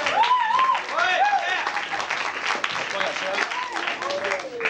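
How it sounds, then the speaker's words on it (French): Audience applause at a 1999 improv match between CRIM and Bréboeuf, welcoming the judges; steady clapping runs throughout, partly under a voice talking over it. "On peut les applaudir, c'est permis."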